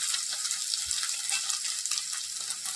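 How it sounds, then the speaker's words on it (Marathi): Potato pieces sautéing in oil in a pan for sabudana khichdi give a soft, continuous hissing sizzle with small crackles, fairly quiet and alone. "एक साधारण 2 मिनटं मी बटाटा तेलात छान परतवून घेतलं"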